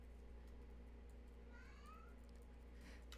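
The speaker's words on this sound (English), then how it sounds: "did you just hear my cat?" A pet cat named Pippin gives a short, faint meow indoors, a soft rising cry heard once or twice against a quiet background hum.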